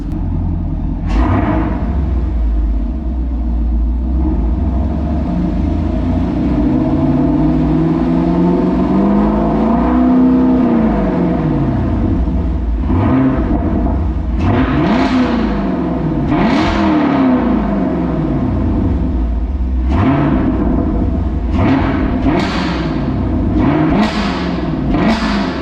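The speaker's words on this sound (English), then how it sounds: "Let's get a little inside rev." The engine of a 1980 Trans Am restomod is revved in a series of rising and falling blips over a steady deep idle rumble, heard loud and close from inside the car, with several quick throttle bursts near the end.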